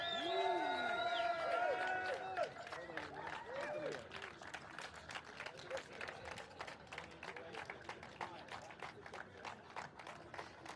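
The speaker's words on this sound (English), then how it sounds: "a round of applause please for Connor Clancy from Mumbai Falcons." Audience at a karting awards ceremony breaks into clapping and cheering, sharp individual claps rising after a few seconds of voices and shouts, with talk mixed in at the start.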